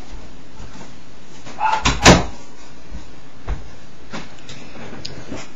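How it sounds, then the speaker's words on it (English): A household door swings shut with a couple of close, solid knocks and a thud clustered together, followed by a faint later bump in an otherwise quiet room. "I just closed the door"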